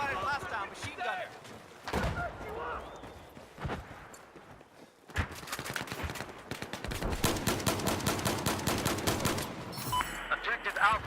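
Automatic machine gun fire in Battlefield 4 gameplay, with dense rapid bursts building through the second half. Someone talks over the early part, and scattered single shots come before the sustained fire.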